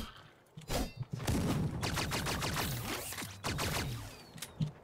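Gunfire in the video game Death Trash, likely a magic-conjured shotgun: a rapid string of sharp blasts and bursts, loud and close, with short pauses between volleys and a final isolated shot.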